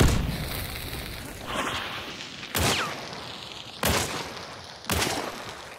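Grenade blasts in Hunt: Showdown land as several sharp, booming thuds spaced about a second apart, each fading into a rumbling tail.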